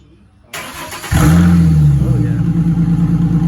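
A 2010 Ford Mustang V6 fitted with a new exhaust cranks briefly and catches, then settles into a loud, steady, deep idle close by, with a short exclamation from a person over the engine.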